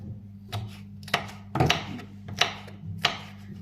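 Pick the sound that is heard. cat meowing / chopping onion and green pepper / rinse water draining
chopping onion and green pepper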